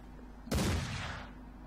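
A single sharp gunshot in the Mordheim video game fires against a quiet low hum, then fades into a short echoing tail.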